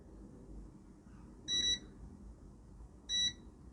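A multimeter buzzer sounds during a phone repair test, giving two short, sharp high-pitched beeps spaced over a second apart, clear and close against a quiet background hum.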